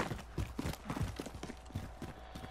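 Enemy footsteps sound behind a fence in Call of Duty: Modern Warfare Warzone: quick, close, rhythmic thuds that go on throughout.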